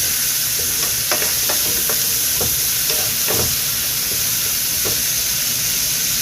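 Hot oil sizzles steadily in a pan as chili and tomato are sautéed for ginisang upo, with scattered scraping and stirring clicks on top of the continuous hiss and no talking.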